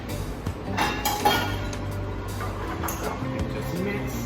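Corn and garlic butter shrimp with salted egg are stirred in a pan, with scattered light clinks and scrapes of a utensil against the pan over several seconds, close and moderately quiet over a low background hum.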